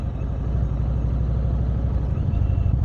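A single car passes on an open road, a steady broad low rumble of engine and tyre noise that stays fairly loud and even throughout with no talk.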